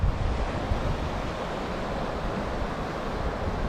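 Strong wind gusting across the seashore while fishing from the bank, a loud continuous roar and buffeting with no voices.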